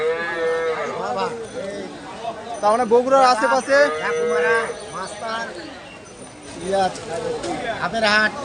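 Cattle moo repeatedly at a busy cattle market near Bogura in Bangladesh, the long lowing calls rising and falling close by while people talk over them.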